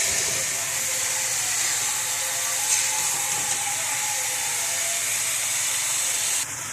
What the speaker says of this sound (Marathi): गाजर, मशरूम आणि त्याला मस्त छान तेलामध्ये असं परतून घेऊया.